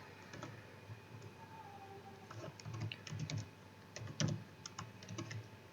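Typing on a computer keyboard while writing HTML code: irregular bursts of close, crisp key clicks with short pauses between runs of keystrokes.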